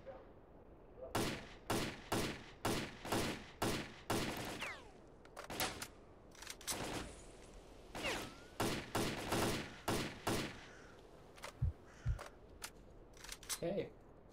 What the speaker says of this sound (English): Spread is so bad on this AK.